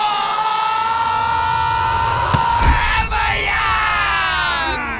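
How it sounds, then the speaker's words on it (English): A basketball arena crowd roars and yells continuously as fans rush onto the court, a dense, loud wall of cheering with a few sharp bangs partway through. "As the crowd charges the court, the people are weeping!"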